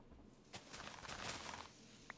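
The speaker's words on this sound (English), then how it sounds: "Hello, chickens." Chickens in the Minecraft video game give a few faint, brief clucks over a quiet background, with soft scattered sounds around them.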